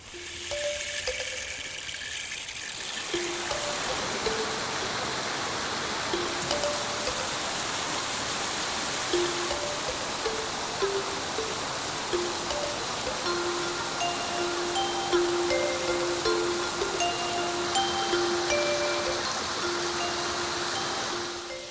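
A steady, broadband roar from the 1,000-stage waterfall in Shangri La. The rushing water fills the whole scene continuously with only a faint tonal hum under it, and no one speaks.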